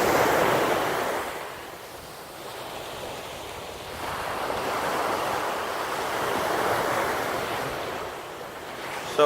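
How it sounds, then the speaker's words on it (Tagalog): Waves wash in and out on an open beach in Barcelona at night, a soft rolling surf swelling and fading in slow surges with some wind rumble, heard alone at moderate distance. "andito kami sa open beach ng Barcelona"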